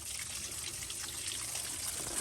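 Water from a hose spray drains out of the frame drain holes on the underside of a truck, a steady close trickling and splashing wash with no pauses, loud and continuous.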